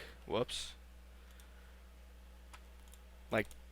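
A computer mouse double-clicks while a stick-figure character is animated in Flash: a quick close pair of crisp clicks, then one more click about three seconds later over a faint steady room hum.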